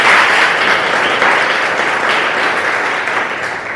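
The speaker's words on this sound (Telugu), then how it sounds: "క్లాప్స్ కొడతాం" A crowd claps steadily and loudly for a few seconds, dense applause that tapers slightly toward the end.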